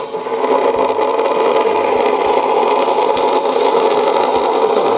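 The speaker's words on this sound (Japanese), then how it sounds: "まずエンジンがかかります。" A small model car engine buzzes at a steady high-pitched whine, running continuously with a faint rattling edge, close and loud.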